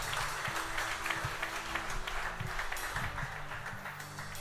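A church congregation applauds, with steady continuous clapping and a low hum underneath, fairly faint and even throughout.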